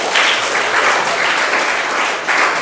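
Audience at a school parent-teacher meeting clapping together, a steady, full burst of applause that fills the room without letup.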